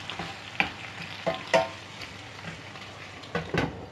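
Bok choy is stirred in a covered stockpot with a little water, giving a few distinct scraping and knocking strokes over a soft, steady simmer and sizzle, close by and without speech.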